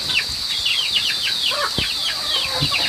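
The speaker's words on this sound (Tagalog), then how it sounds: "Hinawakan na ni Kuya Bintot yung manok na malaki." Large chicken held in someone's hands, wings flapping in rapid bursts with scattered clucks and squawks, close and fairly loud over outdoor background noise.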